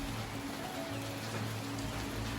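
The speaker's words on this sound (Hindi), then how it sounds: "हल्की हल्की बारिश के बीच ये खूबसूरत वादियाँ और दूर में किसी नदी के बहने की आवाज़ आ रही थी" Light rain falls in a mountain valley in North Sikkim as a steady, even hiss of patter, with soft flowing water blended in and no voices.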